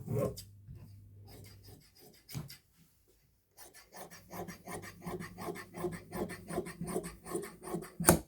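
Scissors cut through salwar fabric in a steady run of rasping strokes that grow louder and more regular in the second half, after a short quiet pause.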